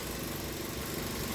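A Mazda 3 engine runs at a steady, close idle, an even low hum with no variation over the brief moment.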